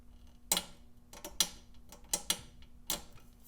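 A penny scraped against a car exhaust to lift off melted material such as pants or shoe fabric: a series of short, sharp scratchy strokes at irregular intervals, fairly close and distinct over a quiet background.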